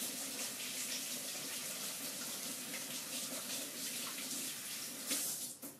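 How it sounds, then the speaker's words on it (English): Cold water runs steadily from a kitchen tap as hands are rinsed, a continuous close hiss and splash with a brief surge of splashing near the end. "just give your hands a little rinse"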